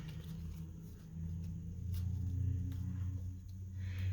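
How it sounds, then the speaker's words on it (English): Heavy trucks pass outside, heard as a low rumbling drone that swells in the middle and stays muffled and distant, with no talking. "Got loud trucks going by."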